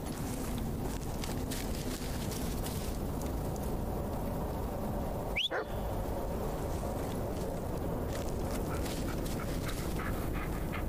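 A dog in a horror video game gives a single brief high whine partway through, set against a constant hissing ambient background.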